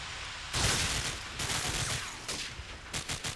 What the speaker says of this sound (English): I hear some shots, but I can't figure out where.